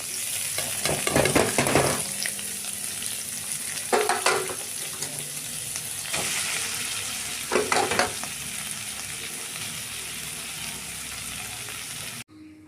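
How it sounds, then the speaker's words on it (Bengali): A banana blossom mixture sizzles steadily in white oil in a wok, with a few louder bursts of stirring and scraping over the continuous frying, and no voices. "এবার কড়াতে একটু সাদা তেল দিলাম, দিয়ে এই মোচা মাখাটা এর মধ্যে দিয়েছি"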